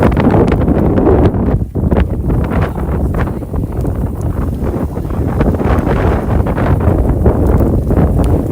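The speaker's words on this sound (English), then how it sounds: "It is super windy right now." Strong wind roars and buffets the microphone continuously during a tornado-outbreak storm in Iowa, a loud, gusty rumble with no pauses.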